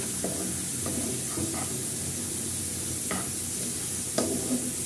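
Chili frying in a pan for beef nehari, a steady loud sizzle and hiss with a few sharp scrapes and clinks of stirring breaking through, close up and without talk.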